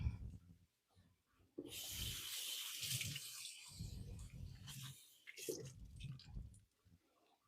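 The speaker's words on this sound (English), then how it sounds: "Let's give them a quick rinse because it's nice to have them a little bit damp when you're putting them in the oven." Tap water runs into a sink as vegetables are rinsed, a steady hiss of flow with soft splashing and squelchy handling, fairly quiet and close, with no voices.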